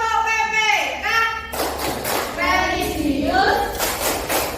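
A classroom of children claps a rhythmic chant pattern together, with sharp hand claps mixed under the group's loud chanting voices and a teacher speaking.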